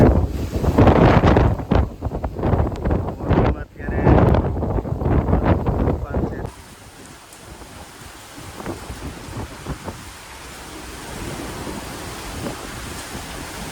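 A strong windstorm in Morbi, Gujarat roars and buffets loudly in gusts at first, then eases into a lower, steadier rushing with scattered knocks.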